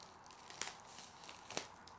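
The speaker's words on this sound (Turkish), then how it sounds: "Şöyle poşetini açayım Apple Style'a." The plastic bag around a Poco X3 NFC phone box is torn open, producing faint crinkling and rustling with two brief sharper rips, quiet and close, with no talking.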